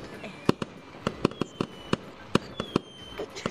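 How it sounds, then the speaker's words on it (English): A firework crackles in the Gorilla Tag video game as a rapid, uneven string of sharp pops and bangs, a dozen or more in a few seconds, over a faint background. "Wait, the firework is jammed."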